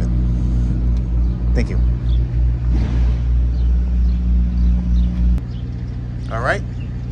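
A 1964 Ford Custom 500 with an FE 390 V8 rumbles loudly at close range with a lumpy, pulsing idle, then drops to a smoother note; a brief spoken phrase and a few faint chirps sit over it.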